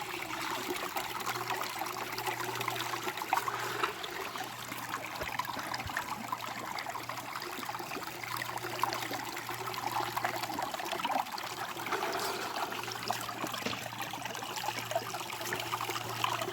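Slow water trickling and flowing in a creek while panning for gold nuggets outdoors, a steady continuous babble with no talk over it.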